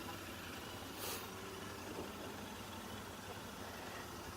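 A 2020 Royal Enfield INT650 motorcycle idles with a steady, fairly quiet low rumble, broken once by a brief airy hiss.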